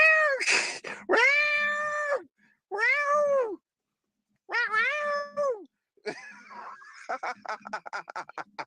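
A house cat meows over Fancy Feast food: several loud, drawn-out meows close by, separated by short silences, then a run of quick, choppy chirping cries.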